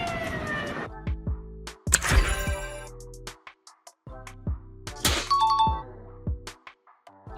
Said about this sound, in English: The loud siren and flashing lights tell other vehicles to move aside.